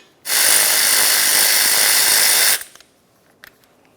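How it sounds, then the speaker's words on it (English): Power tool with a T50 Torx socket spinning out a brake caliper mounting bolt on a 1994-2002 Dodge Ram 2500, a loud continuous high whir for about two seconds that stops abruptly, followed by faint clinks. "To remove each of these 2 mounting bolts, we'll be using a T50 Torx head socket"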